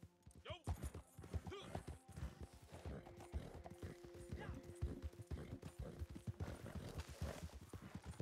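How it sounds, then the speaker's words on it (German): Hooves clip-clop in rapid rhythm under a horse's whinnies in the Red Dead Redemption video game, with mechanical game sounds and frequent talk over the top. "Mein Pferd muckt wieder."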